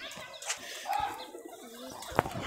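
Caged local Rajshahi pigeons cooing close by, a few soft throaty coos over about two seconds, with a brief flutter and a sharp click near the end.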